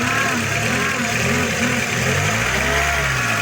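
A steady whining hum with a low drone from under the hood of a Skoda Octavia Tour with an AKL engine, heard close and continuous at idle.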